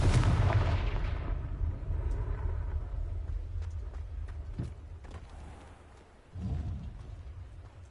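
A Confringo fire spell blasts in Hogwarts Legacy, a loud booming explosion at the start that rumbles and fades over several seconds, with a second smaller burst near the end.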